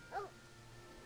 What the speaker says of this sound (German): Sir Leopold, wuff, wuff.